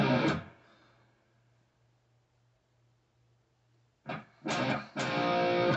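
Distorted electric guitar plays power chord slides from a riff, one short chord that rings out into a long pause, then three quick chords struck in succession, played alone.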